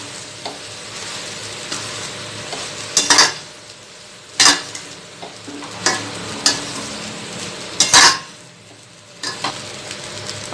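Chicken fried rice with pepper and salt sizzles in a pan while a metal spatula stirs and scrapes it, giving sharp clanks roughly every second or two over a steady frying hiss.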